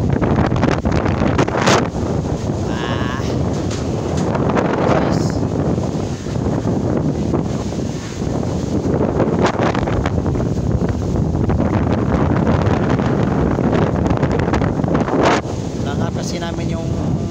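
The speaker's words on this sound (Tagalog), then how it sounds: "lakas kasi dito kami sa taas, lakas ng volume yung kalakasan ng hangin guys." Strong wind sweeping up from the fields buffets a rooftop, roaring and gusting continuously into the microphone with heavy rumbling buffeting and occasional sharper gusts throughout.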